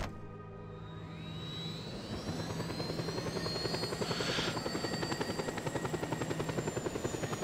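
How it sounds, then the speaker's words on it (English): A helicopter in the video game Just Cause 2 spools up and its rotor settles into a steady, loud, rapid thumping, with a rising engine whine and no talk. "Let's take the chopper."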